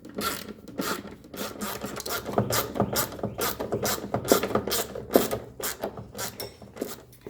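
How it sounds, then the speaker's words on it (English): Sheet metal screws are driven into the air conditioner housing of a 1985 Mercedes 300TD wagon, giving a close run of scraping, ratcheting turns that grind on in quick repeated strokes for about seven seconds, with no talking. "I need to put the sheet metal screws back in here to hold it still before I tighten it."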